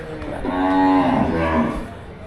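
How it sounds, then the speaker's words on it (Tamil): A single long, close moo from cattle at the Melapalayam cattle market swells and fades over about two seconds, loud and clear with no voices. "இது எல்லாமே வாங்கி கட்டின மாடு."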